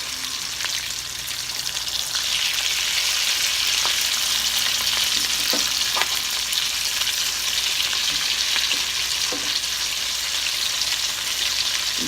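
Potato pancakes frying in a pan, a dense continuous sizzle with scattered pops and crackles throughout, close and steady, no talk.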